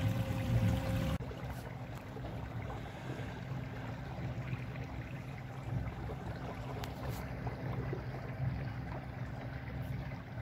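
A small electric boat powered by a 120 Ah LiFePO4 battery cruises along, its steady low hum blending with a constant rush of water against the hull. The sound is even and moderately loud throughout, with no voices.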